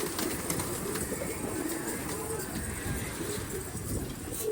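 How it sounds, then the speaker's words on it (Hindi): Pigeons coo softly in a rooftop loft while someone talks nearby; the low, continuous cooing of several birds sits under steady background noise. "सारे कबूतर निकाल दिए।"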